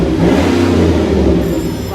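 A Chevy Avalanche with a 5.3L V8 and aftermarket Flowmaster 40 Series or 14-inch Magnaflow exhaust revs in a loud, close, continuous deep engine roar that holds steady.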